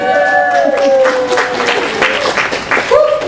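Lecture audience at UCLA claps briefly, a short loud burst of scattered clapping with whoops and voices over it.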